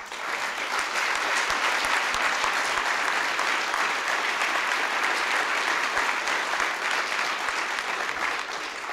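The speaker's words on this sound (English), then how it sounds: "one final round of applause for all the outstanding volunteers we have with us today" Audience at a volunteer action awards ceremony applauds in a dense, sustained round of clapping that fills the whole stretch evenly, with no speech over it.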